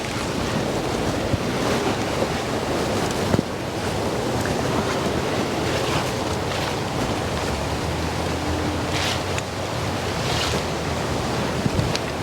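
Strong wind ahead of Hurricane Helene roars steadily around mango trees outdoors, buffeting the microphone in a constant loud rush with occasional thumps, and no one speaks.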